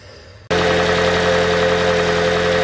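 A Toyota Prius V engine idles after a repair fixing knocking and rattling, starting abruptly and then running as a loud, steady, even hum with no pauses and no talk.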